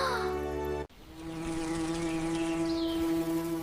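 Steady, close insect buzzing of bees around a hive in a children's garden story, a continuous droning hum that runs alone after a brief cut at the start.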